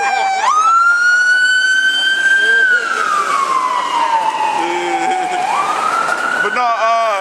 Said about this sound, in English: I'm gonna let this truck go by. This fire truck.